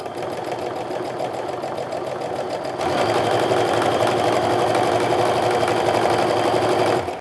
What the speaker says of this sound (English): now I'm going to sew down the other side of that line to create our second seam allowance